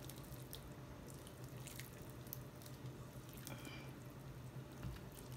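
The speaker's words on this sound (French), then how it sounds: "je rajoute de l'eau" Water trickles and drips into couscous grains being prepared for a Moroccan three-meat couscous, a faint, steady liquid patter close by with light splashes and no speech.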